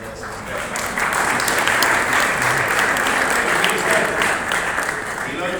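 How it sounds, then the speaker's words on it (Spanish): An audience at a national deacons' gathering in Ávila breaks into sustained applause for a man about to be ordained, a thick wash of clapping that swells early and holds steady, with some voices murmuring beneath it. "Un aplauso para Nacho, que se ordena el día de San"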